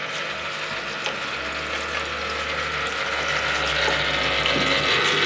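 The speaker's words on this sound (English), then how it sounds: "Right, so get it all cleaned off in the parts washer." Parts washer spraying and circulating fluid while cleaning car differential parts from a Fiat Panda 4x4, a constant close hiss of liquid with a low pump hum underneath.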